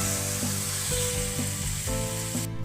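Mixed vegetables frying in a pan for vegetable khichuri, a steady close sizzle running throughout with regular stirring scrapes about every half second.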